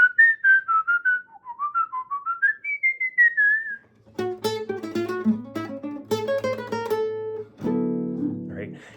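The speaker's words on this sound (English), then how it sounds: "and I'll whistle something." A person whistles a free, improvised jazz melody, clear and close with bright sliding pitches, then a few sustained chordal tones come in partway through.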